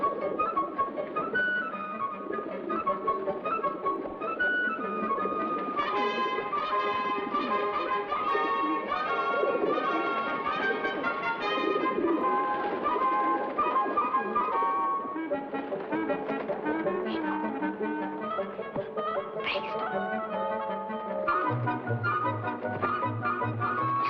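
Pigeons coo softly in Rome under a steady musical score, their calls faint and partly buried beneath the louder orchestral sound throughout.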